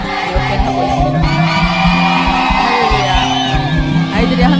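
A crowd of children shouts and cheers together in a loud, continuous mass of voices, with whoops and yells over a steady, dense roar.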